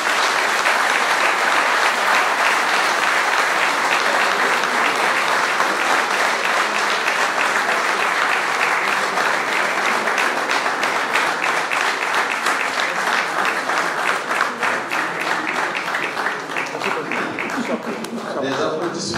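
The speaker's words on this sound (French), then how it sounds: "Des applaudissements mérités." An audience at a debate on the future of the CFA franc in Cameroon bursts into long, loud, continuous applause that holds steady for the whole stretch and thins only slightly at the close.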